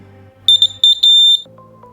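A piezo alarm buzzer wired in series with a battery in a simple science-kit circuit gives several short, shrill beeps and then one longer sustained tone as the circuit is touched, loud and close with no talk.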